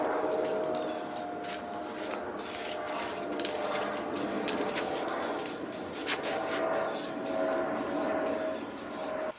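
Spraying 2K clear coat from an aerosol paint can onto a motorcycle or automotive part: a close, steady hiss broken into repeated short bursts of spray, with no talk.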